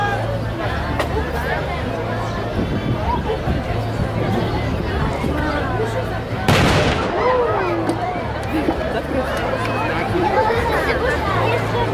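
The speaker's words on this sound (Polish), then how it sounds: "jako pierwsza odpowiedziała oczywiście czujna będzińska artyleria" A single heavy artillery cannon boom bursts out over a steady crowd hubbub and background chatter at a knights' tournament at Będzin Royal Castle, then the murmur carries on.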